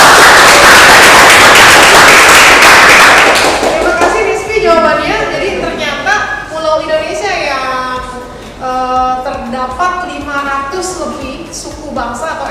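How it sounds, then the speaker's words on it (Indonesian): A classroom of students claps for about three and a half seconds, a dense burst of hand claps that stops abruptly, followed by a teacher speaking over a quiet room. "Tepuk tangan dulu dong."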